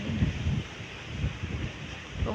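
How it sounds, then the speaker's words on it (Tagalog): Gusty wind buffets the microphone outdoors ahead of an approaching typhoon, a low, uneven rumble that swells and dips in several surges, with no voices. "Kayan oh, mahangin"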